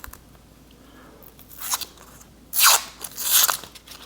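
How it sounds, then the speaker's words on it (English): Onion peel torn and stripped away by hand in a kitchen, a few papery crackling crunches building up, with the loudest bursts near the end and no talk. "Cut the ends off your onion. Okay, and we're going to peel it."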